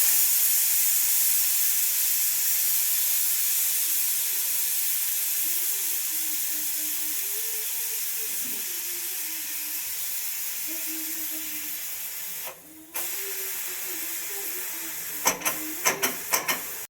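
Steam escapes from a pressure cooker as its whistle weight is lifted off. A loud, continuous hiss slowly weakens over about twelve seconds, then stops with a few sharp clicks and knocks.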